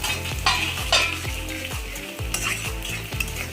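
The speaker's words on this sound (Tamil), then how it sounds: "ப்ரான் தொக்குக்கு எப்போது வெங்காயம் கொஞ்சம் நல்லாவே மற்றதை விட கொஞ்சம் நல்லாவே டீப்பாக ஃப்ரை பண்ணிக்கணும்." Onions deep frying in a pan for a prawn thokku, with a steady sizzle and repeated stirring scrapes in a regular rhythm, close and fairly loud, with no talking.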